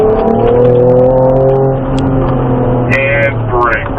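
Ford Ranger Raptor pickup engine driven hard off-road, a loud, steady close-up drone with rising tones as it accelerates, joined by brief higher-pitched whine toward the end.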